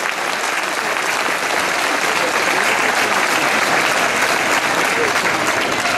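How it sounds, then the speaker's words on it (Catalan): Loud, sustained applause from a crowd at an outdoor Catalan independence rally in Barcelona, dense and steady throughout without pause. "un fort aplaudiment"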